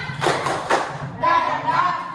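A class performs a rhythmic spirit clap, sharp patterned claps and thumps in quick bursts, mixed with voices chanting along.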